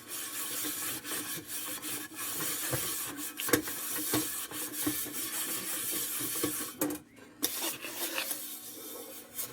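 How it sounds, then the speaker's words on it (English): Steel wool rubs over an 1890s Dietz Victor hot blast lantern in quick, gritty back-and-forth strokes, close and continuous with a brief pause near the end and no talking. "let's throw a little steel wool on this sucker"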